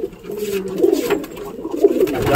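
Close, loud pigeon coos roll out in two swelling bursts as the birds gather to drink water, with a faint rustle between calls.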